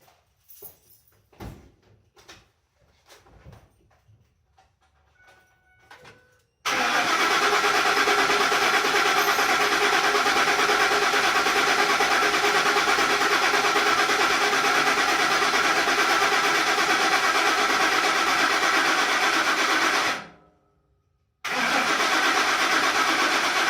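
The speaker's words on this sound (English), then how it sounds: "Okay, now we can crank it over." A Ford 5.4-litre 3-valve V8 is cranked over with a few scattered clicks, then catches and runs loudly and steadily, cuts out briefly, and restarts near the close.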